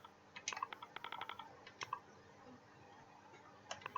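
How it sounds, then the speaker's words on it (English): Quiet keystrokes on a computer keyboard as World of Tanks is typed, a quick run of clicks followed by a few isolated taps, faint and close. "I'm going to type in World of Tanks,"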